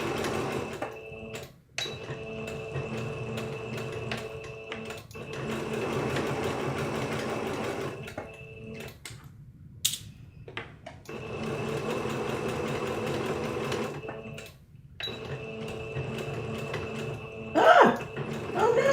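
A domestic sewing machine runs in several bursts while back stitching, its rapid, even mechanical whirr stopping and restarting with short pauses in between and a few clunks near the end, close and fairly loud.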